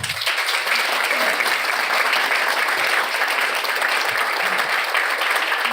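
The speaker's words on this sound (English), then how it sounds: "I think we should welcome them with a big round of applause" Audience at a Pulitzer Center talk claps steadily and warmly to welcome two speakers, an even wash of applause filling the room without cheering or talk.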